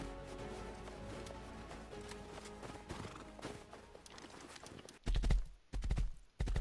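Horse hooves clip-clop in the video game Rust, at first a busy patter under game sounds, then loud, heavy thumping strides in the last seconds.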